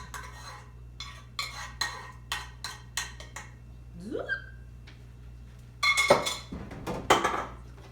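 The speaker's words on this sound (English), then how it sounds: "Take you a spoon and just stir the meat in with the rice." A spoon stirs seasoned ground beef into rice in a dish, giving a series of close clinks and scrapes against the dish, with a brief vocal sound in the middle and louder knocks near the end.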